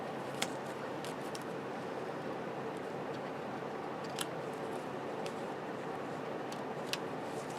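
Scissors trim a strip of paper ribbon for a craft album page, with a few crisp snips spaced apart over a quiet, close-up hiss.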